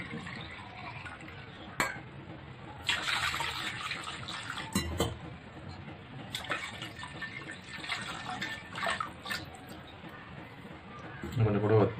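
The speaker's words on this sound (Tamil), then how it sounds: "இன்றைக்கி அதோட ஒரு 2 கப் தண்ணி ஊற்றுறேன்." Water is poured into a simmering tamarind fish curry (vela meen kuzhambu) in a pot. It gives soft splashing and sloshing with a few clinks of utensils, close and moderately loud, with no talk.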